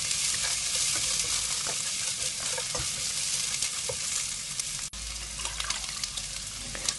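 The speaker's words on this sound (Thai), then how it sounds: "เราต้องใส่แครอทลงตามไปต่อจากเนื้อปลาเส้นค่ะ" Carrots and fish strips are stir-fried in a hot pan, giving a loud, continuous sizzle with scraping stirring strokes close by and no talking.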